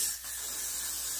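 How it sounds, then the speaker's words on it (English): Hair product is sprayed onto locs in a steady, close, continuous hissing mist with no talking. "So first I'm gonna just spray this"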